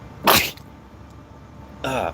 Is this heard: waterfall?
no